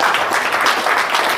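Steady burst of hand clapping with a broad, dense texture and no gaps, loud and close for its short length, sounding more like a small group applauding than one child's claps.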